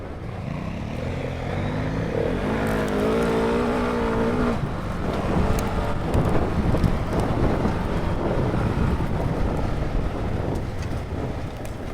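Two Husqvarna Norden 901 motorcycles ride hard off-road, their engines a loud, continuous roar with a rising and falling tone early on, then a rough, gusty rush of wind and churning dirt that carries on without speech.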